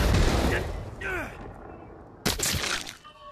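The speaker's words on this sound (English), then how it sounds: "he's throwing grenades back at me" Grenades exploding in the Saints and Sinners VR game: a sharp, loud crack-burst at the start, then a second blast a couple of seconds later, with a voice talking over the noise.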